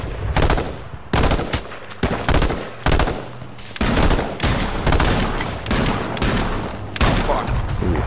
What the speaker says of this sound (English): we're getting shot hard